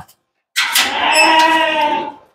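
A goat bleats once, a loud, close, wavering cry lasting almost two seconds at a livestock market selling goats and dumba sheep.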